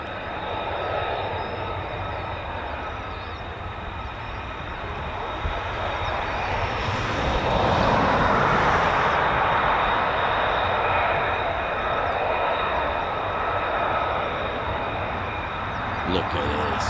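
Two F-35B stealth fighter jets fly past at an RAF airbase, a broad continuous jet roar that swells to a peak midway and then holds, loud and distant-sounding, with no talk heard.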